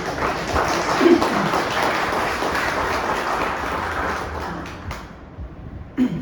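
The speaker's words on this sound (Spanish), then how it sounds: "Dale un aplauso al Señor, hermano" Church congregation applauding in praise, a dense, steady wash of clapping that fills most of the stretch before thinning out near the end, with a few louder isolated claps standing out.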